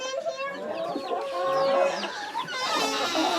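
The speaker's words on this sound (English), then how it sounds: "Got a whole lot of chickens." Many chickens on a small island farm clucking and chattering continuously, with a rooster-like call among them, close and fairly loud throughout.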